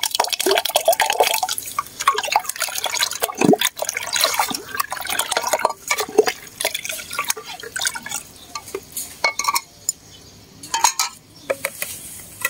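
Spoiled milk is poured into a glass, giving irregular liquid drips and splashes with light glassy clinks and kitchen clatter, moderately close and with no talk.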